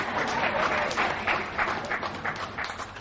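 A dense, steady patter of audience clapping at an awards ceremony, fairly loud and close, with many overlapping hands swelling and easing slightly over three seconds.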